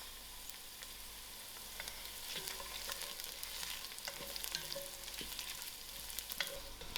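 Cumin (jeera) and mustard seeds sizzle and crackle in hot oil for a bean dal, a steady close frying hiss with scattered small pops throughout.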